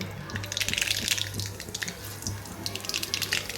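Mustard seeds drop into hot oil for a moringa drumstick vegetable dish and sizzle steadily with a faint crackle. The sound is quiet and close, with small pops scattered through it.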